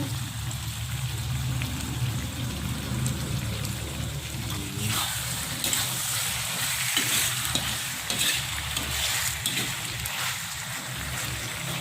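Chopped onions fry in a hot pan for a beef stir-fry, giving a steady, close sizzle throughout with occasional scraping and stirring sounds on top.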